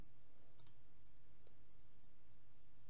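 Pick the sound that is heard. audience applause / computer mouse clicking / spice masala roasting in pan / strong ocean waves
computer mouse clicking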